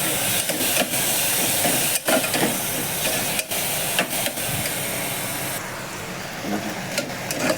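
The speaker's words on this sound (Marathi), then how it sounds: "ही डाळ टाकूया भिजून घेतलेली. त्याला चांगली परतून घेऊया." Soaked dal sautéed in a hot pan for a home-style thali: a steady, loud sizzle and hiss runs throughout, broken by brief scraping stirs, with no talking.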